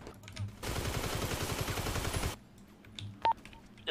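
Rapid automatic gunfire in a GTA 5 roleplay game, a dense burst of fast shots lasting under two seconds, followed by quieter scattered game sounds.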